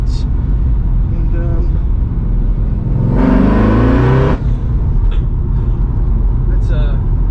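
A Holden Commodore VF SSV Redline with its sound deadening removed, its engine swelling into a loud, rising acceleration for about a second before easing off, with steady road and cabin noise and occasional talking around it.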